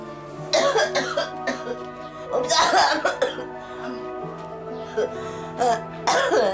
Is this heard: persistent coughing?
yes